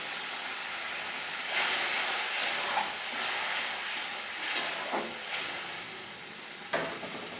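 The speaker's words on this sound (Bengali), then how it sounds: "এবার আমি জল দিয়ে দেব অল্প জল দেব" Water poured into hot spiced oil in a pan, while cooking a puti fish curry, makes a loud, steady sizzle and steam hiss that surges several times as the liquid hits the oil.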